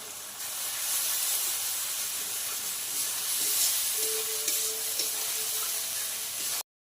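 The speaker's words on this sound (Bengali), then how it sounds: "দিয়ে এবার মশলাটাকে ভাজতে হবে ভালো করে" Ground spice paste with turmeric and salt frying in a pan makes a soft continuous hiss and sizzle, fairly quiet and steady, without voices.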